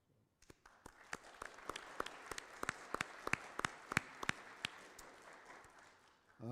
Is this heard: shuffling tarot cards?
no